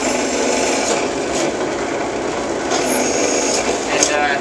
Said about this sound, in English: each one of these gets drilled for the rivets to go in place